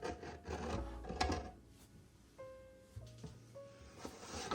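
Rough scraping and rubbing against a grimy crockpot, coming in short uneven strokes with pauses, close and moderately loud, alongside a few faint tonal hums.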